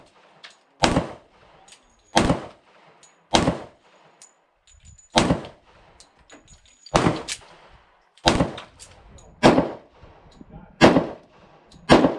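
A Kimber Black Ice 10mm pistol is fired in about nine loud, sharp, evenly spaced single shots, each followed by a brief echo, with no talk.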